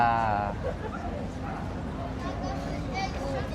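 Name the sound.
dogs barking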